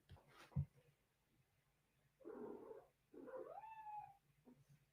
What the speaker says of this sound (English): So if you hear her meowing.